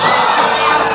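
Large crowd at an Islamic sermon gathering shouting a takbir response in unison, a loud, sustained collective roar of many voices lasting about a second.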